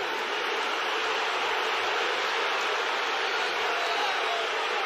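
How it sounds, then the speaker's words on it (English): Crowd at a college wrestling meet between Iowa and Penn State roaring in a steady, loud, broadband wash of cheering that holds without a break, with no talk over it. "You hear at least the crowd going."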